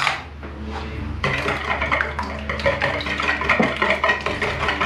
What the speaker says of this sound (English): Now, whisk away.